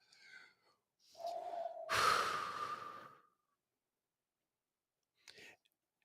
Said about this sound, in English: All right, we're going to breathe it out.